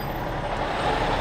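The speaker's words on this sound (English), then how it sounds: "this noisy ass truck's gonna have to just stay right beside me" A truck idles right beside a car stopped in traffic, a steady loud low rumble with no breaks over the brief moment.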